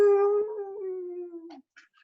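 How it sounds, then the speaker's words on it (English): A pup lets out a single drawn-out howl that slowly falls and fades, followed by a couple of faint, brief yips, close and clear with no voices. "it will let out a little howl."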